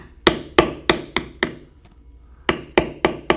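A mallet strikes a beveling tool on leather in a quick run of five sharp taps, a short pause, then five more, close and crisp.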